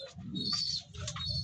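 Pigeons kept in a home loft coo in low, rolling murmurs, with a few higher chirps above, close and continuous through the moment.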